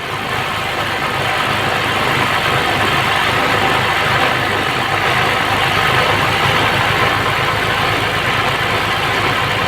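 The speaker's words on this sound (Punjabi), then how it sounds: "ਸਲੋ ਸਲੋ ਆਪਣਾ ਮਸ਼ੀਨ ਨੂੰ ਚਲਾਇਓ" Embroidery sewing machine motor running continuously and loud up close, a steady dense whir with fine rapid pulsing and no voices.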